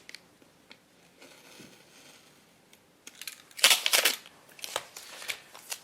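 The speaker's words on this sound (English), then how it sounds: "I make a cut along the top of the frame there, paying careful attention not to cut the edge of the frame" A blade cutting tape along the top edge of a wooden picture frame: quiet scraping at first, then a burst of crisp slicing and crinkling close by, followed by a few sharp ticks, with no voices.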